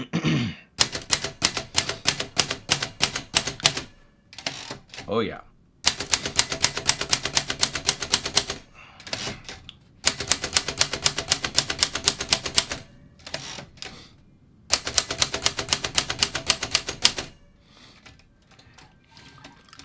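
Keys of a vintage Remington Rand Deluxe Model 5 manual typewriter strike in fast, close, crisp bursts of rapid clacks, broken by short pauses, a carriage return and a brief spoken word.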